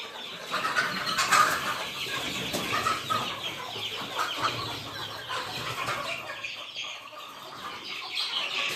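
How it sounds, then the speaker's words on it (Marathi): Free-range village hens at a small poultry farm cluck and squawk in a busy, overlapping chatter that carries on throughout, moderately loud with some outdoor background noise. "तर भाई हे आहे पोल्ट्री फार्म."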